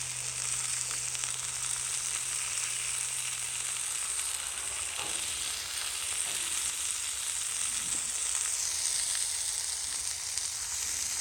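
Frozen vegetables frying in a pan on a stove, giving a steady, loud, continuous sizzle with a few faint stirring sounds and no talking.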